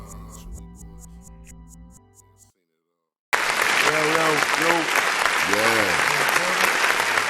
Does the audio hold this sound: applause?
yes